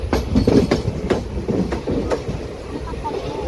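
Simhadri Express rolling into Anakapalli railway station, with rhythmic clickety-clack of wheels over rail joints at moderate distance, slowing under faint voices.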